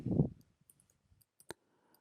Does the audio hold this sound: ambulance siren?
no